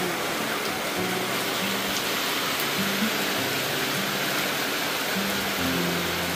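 Heavy rain pours down outdoors as a dense, steady, even roar that fills the whole stretch, with no voices over it.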